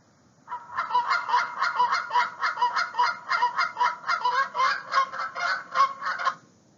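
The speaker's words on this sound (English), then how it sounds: "The Canada goose is the most common goose species observed in Santa Clara County and has a sound like this" Canada goose in Santa Clara County honking repeatedly, a loud, close, rhythmic run of nasal honks for about six seconds with no other sounds.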